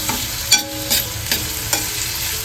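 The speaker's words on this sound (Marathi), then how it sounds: "आता टमाटर घालून घेते. दोन्ही गोष्टी चांगल्या परतून घ्यायच्या आहेत." Onion and tomato sautéing in a pan, a loud close sizzle broken by four spatula scrapes at roughly even intervals.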